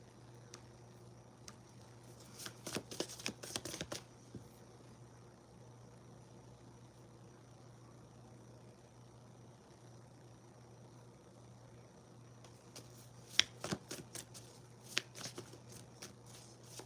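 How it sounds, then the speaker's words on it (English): Tarot cards are shuffled in two close bursts of rapid riffling and flicking, the first lasting a couple of seconds and the second later with a few sharp snaps, separated by a quiet stretch over a low steady hum. "let me go ahead and pull some cards here"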